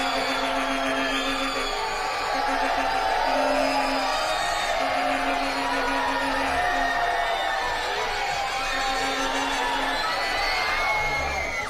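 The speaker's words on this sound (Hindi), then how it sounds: "लड़कियां क्या चीखती हैं यार, कसम खुदा की हद है" Girls in a television game show studio audience scream, whoop and cheer loudly and continuously, a dense crowd roar with shrill high voices and a sustained tonal hum running underneath.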